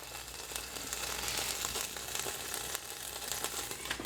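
Bacon and sausage sizzle inside an air fryer, a soft continuous crackle and hiss with scattered pops, fairly quiet and close, with no talking.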